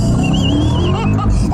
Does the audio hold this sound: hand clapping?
no